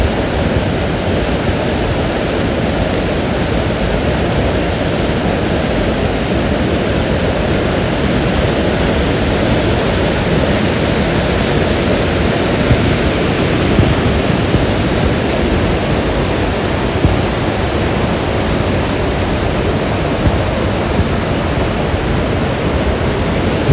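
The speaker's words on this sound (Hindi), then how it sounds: "पानी आ रहा है भाई यहाँ बहुत तेज है" A fast-flowing Himalayan mountain stream near Chitkul, heard as a loud, steady, unbroken rush and roar of water close by throughout, with no voices.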